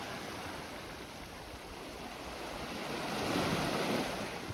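Sea waves wash against the rocky Santorini coast in a steady broadband surf roar with wind buffeting the microphone, swelling louder toward the end, heard alone without voices.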